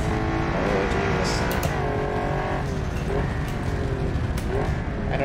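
A hypercar engine roars at full throttle in a racing simulation game on a track, climbing through rising revs with quick upshifts that drop the pitch, loud and continuous with faint tire noise.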